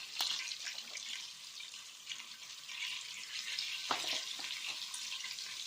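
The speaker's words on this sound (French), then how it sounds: "Alors voilà, la viande roussit" Pork browning in a pan with garlic, a steady soft sizzle and crackle with a few sharper pops, close and continuous without talk.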